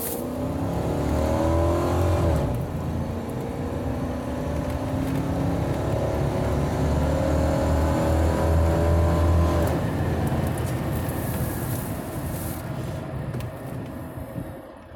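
A mid-90s Chevrolet Caprice accelerates hard, its engine loud and close, the pitch climbing through a long pull with a brief shift, then easing off near the end; no talking.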